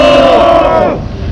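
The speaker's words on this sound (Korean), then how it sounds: "우리 모두 송은학 대표님께 격한 함성을 한번 부탁드리겠습니다" A crowd at an outdoor press conference lets out a loud, unified shout that fills the first second close and strong, then drops away abruptly into quieter background murmur.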